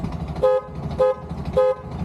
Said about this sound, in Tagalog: Sa loud horn naman, 98 ang pinakamataas na lumabas.